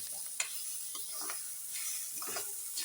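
Onion fries in a little oil in a pan for a bitter gourd dish, a soft, steady sizzle with a few light spatula taps and stirring sounds, no talking.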